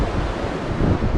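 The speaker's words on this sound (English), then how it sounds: "because of the wind and, of course, the ocean" Wind buffeting a GoPro Hero 9 Media Mod microphone right beside the ocean shore, with crashing waves blending into a loud, continuous low roar and no voices.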